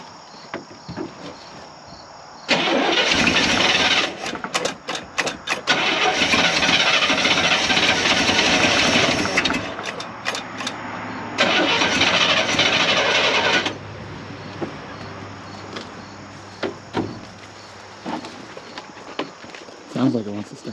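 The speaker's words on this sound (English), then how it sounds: "Sounds like it wants to start." A 1975 International 200 automatic with a dry carburetor float is cranked close up. Two long bursts of rapid, chattering starter noise are heard, and the engine never catches. Voices are heard between the bursts.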